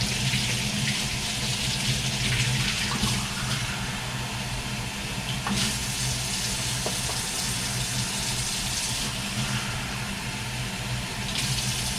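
A tap runs warm water steadily, splashing continuously into a basin at close range with no talking, while preparing puppy weaning food.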